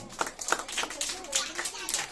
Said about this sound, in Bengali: বাহ, এই তো হাততালি।